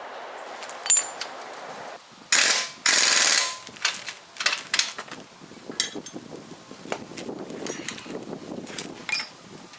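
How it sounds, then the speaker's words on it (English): Impact wrench tightening the lower shock bolts on a Jeep Wrangler TJ during a Rough Country 2.5-inch front lift install, heard as several short loud rattling bursts followed by lighter clanks and tool handling. "I'll just, hit it gently with the impact."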